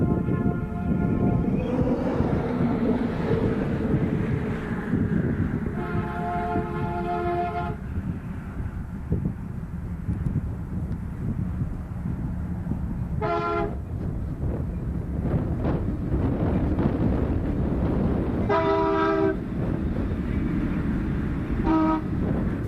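Santa Fe freight trains labour uphill through Abo Canyon in New Mexico, a steady diesel rumble broken by several loud multi-chime horn blasts, some long and others short.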